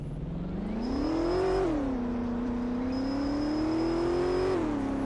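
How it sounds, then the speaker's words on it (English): A turbocharged car engine in a Roblox driving game revs up and down steadily, its pitch rising and falling with a faint high whistle on top, and no voices. "That's a freaking turbo."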